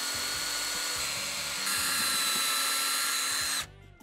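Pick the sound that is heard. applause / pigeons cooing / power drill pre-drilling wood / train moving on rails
power drill pre-drilling wood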